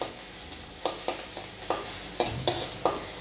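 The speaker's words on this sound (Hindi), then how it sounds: "वो इसमें डाल दूंगी और इसे हम 30 सेकंड तक अच्छी तरह से चला लेंगे" Finely chopped garlic stirred in a hot pan of oil while cooking Manchurian, a steady close sizzle broken by about seven sharp scraping strokes of a spoon against the pan, with no talking.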